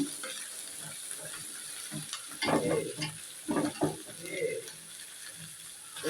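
Meat added to spiced masala with ginger paste in a pan, heard as a soft steady sizzle with a few louder clattering, scraping bursts midway as the pieces go in.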